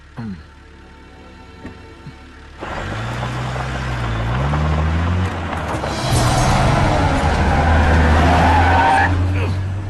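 A car in a Malayalam movie scene pulls away hard with a tire squeal and a rising engine roar that builds and stays loud, after a brief moment of quiet and faint voices.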